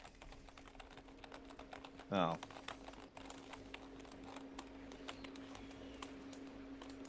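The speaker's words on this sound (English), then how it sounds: "All I hear is clicking on your end" Rapid computer keyboard typing clicks run steadily through the background under a game voice chat, with a brief spoken exclamation partway through and a low steady hum throughout.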